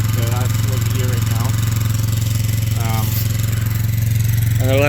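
A 2004 Polaris Sportsman 400 ATV idles roughly on a cold start, its engine drumming steadily and close with a light rattle from loose balance weights, while someone talks over it.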